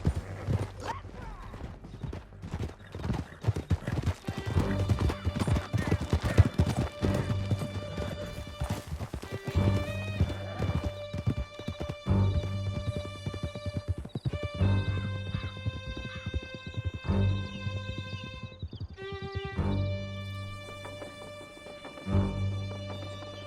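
Horses gallop in Red Dead Redemption 2, a steady rapid clip-clop of hooves running on for the whole stretch with occasional whinnies and a shifting musical score over it, loud and close.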